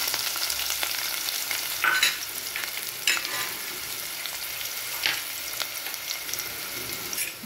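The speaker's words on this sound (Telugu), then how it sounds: "ఇప్పుడు ఆనియన్స్ వేసుకోవాలండి." Chopped onions hit hot oil with seasoning seeds in a pot on a stove while a hotel-style poori curry is cooked, giving a steady close sizzle broken by a few sharper stirring scrapes and clinks, with no talking.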